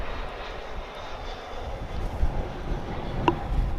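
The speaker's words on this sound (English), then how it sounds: "This is an American Airlines aircraft coming in from Cancun" An American Airlines jet arriving at Dallas Fort Worth (DFW) Airport, a steady distant engine roar that swells slightly as it draws nearer, with no talking.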